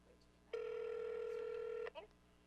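A phone gives a single steady electronic ring tone lasting just over a second, fairly faint, before cutting off into brief chatter.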